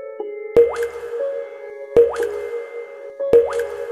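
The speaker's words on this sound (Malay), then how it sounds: "bunyi air menitik satu persatu" Water drops falling one at a time, three clear plops spaced about a second and a half apart, close and distinct against a steady low hum.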